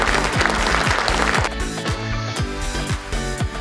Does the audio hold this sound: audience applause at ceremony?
yes